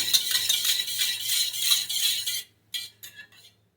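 A spoon stirs a bowlful of yogurt and water for surali vadi batter, giving a rapid run of scraping and light clinks against the bowl. It stops, then a few separate taps and clinks follow, with no talking.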